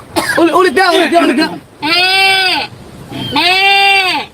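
A person imitates a goat, first with a wavering vocal run and then two long, loud, nasal bleats with a short pause between them, close to the microphone.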